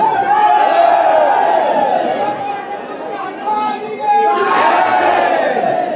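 A dense crowd murmurs and chatters inside Sitamarhi temple in Bhadohi, a loud continuous mass of overlapping voices with occasional louder calls rising above it.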